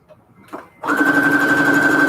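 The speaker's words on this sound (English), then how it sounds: "Just had to go and sew some fabric together." A sewing machine stitches fabric scraps together, starting after a brief quiet lead-in and running as a loud, steady mechanical whir with a constant hum to the end.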